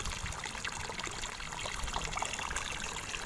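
Water trickles and splashes steadily into a container, a soft continuous pouring sound with faint bubbling.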